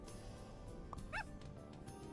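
A short cartoonish dog bark from the video game Super Auto Pets, a single brief yip-like call rising over soft background game sound, faint and quick.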